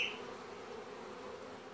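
Young honey bees flying around near the hive, a faint, steady buzzing drone heard alone outdoors.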